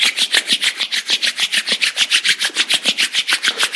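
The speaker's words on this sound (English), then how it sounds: "let's gently start rubbing our palms and create some energy between our hands." Palms rub briskly together in a fast, even back-and-forth rhythm, close and fairly loud, a dry swishing friction repeating about six times a second with no other sound.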